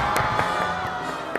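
A group of reality-show players cheers, whoops and claps together after cracking a puzzle in an escape-room style game; the burst is brief, lively and close, with a few sharp claps standing out.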